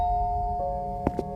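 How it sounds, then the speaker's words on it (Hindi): A doorbell rings in a horror story setting, two short chimes struck a moment apart over a steady low musical drone, clear and fairly close. "तभी दरवाजे पर घंटी बजी।"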